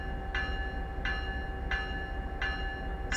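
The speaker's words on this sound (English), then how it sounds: "So let's just start off with the bell sound" MP36PH locomotive electronic bell in Train Sim World 5, ringing in a steady, evenly spaced rhythm of five sharp metallic strikes over a low engine rumble, fairly close and moderately quiet.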